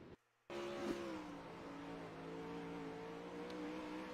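Race cars roaring around the dirt track at Knoxville, a steady loud engine drone with sustained droning tones after a brief dropout at the start, no talking.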